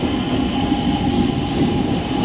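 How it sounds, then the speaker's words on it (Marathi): A fast train rushes past a platform at an Indian railway station at night, a steady loud rumble of wheels and carriages with no break, heard close by. "एक जलद गाड़ी जाने वाली है"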